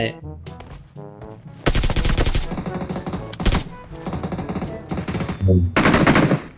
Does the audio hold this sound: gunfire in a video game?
yes